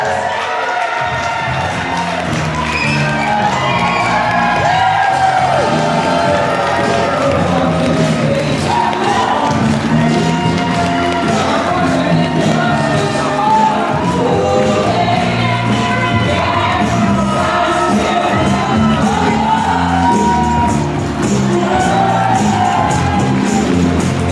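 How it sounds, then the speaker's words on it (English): Wedding reception guests cheer, whoop and shout for the newlyweds in a loud, continuous roar that lasts over twenty seconds, with scattered claps and thumps in a busy room. "Give them a round of applause"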